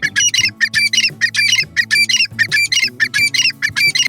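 Grey francolin territorial calling, a loud harsh repeated squawking phrase delivered in a steady rhythm of rapid bursts, close and clear with no talk.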